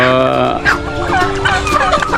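Farm turkeys gobble loudly and close by in a continuous, overlapping warble, with chickens and ducks kept nearby.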